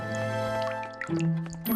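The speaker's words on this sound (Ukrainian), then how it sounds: "Зі стелі налева дзюрчала вода." Water drips and trickles from a leaking ceiling in short, wet, plopping bursts, set against sustained musical tones.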